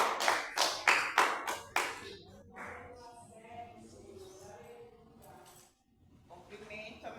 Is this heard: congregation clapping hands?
yes